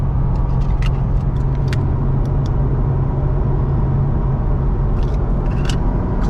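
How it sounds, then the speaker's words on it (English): C6 Corvette Z06 V8 with exhaust valves open, a loud steady engine drone through the whole stretch with sharp little clicks and ticks scattered over it. "So here, we'll do a downshift, valves open."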